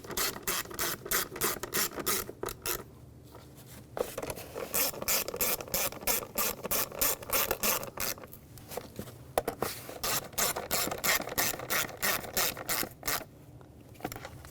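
A ratchet snugs down spark plugs on a 2006-2010 BMW 550i with the 4.8L V8, giving rapid, close clicking bursts in steady runs with brief pauses between strokes.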